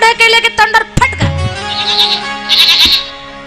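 A human voice imitates a goat's bleating in a loud, wavering series of cries during a Marathi devotional kirtan sermon.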